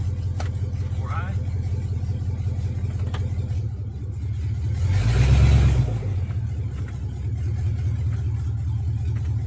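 Chevrolet Silverado mud-rig truck engine driving in four-high, a steady low rumble from close by with one rising surge of revving in the middle before settling back.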